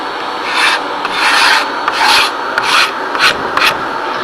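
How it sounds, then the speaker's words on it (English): Viper vacuum scraper rasping peeling paint off a wooden window sash, a series of short, close scraping strokes in an uneven rhythm with a steady vacuum hiss underneath. "I'm using the new Viper blue vacuum scraper"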